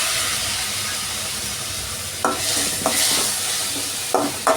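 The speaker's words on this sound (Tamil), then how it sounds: "இப்போ தக்காளி சேர்க்குறேன்." Tomatoes sautéing in a pan for mixed vegetable sambar, with steady close sizzling and occasional scraping stirs of a spoon.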